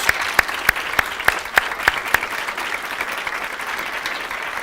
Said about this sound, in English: I think a nice applause